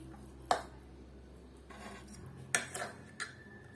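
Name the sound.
mixing hot and spicy pancit canton noodles with utensils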